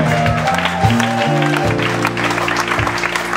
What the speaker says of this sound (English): How about giving the sound man a round of applause?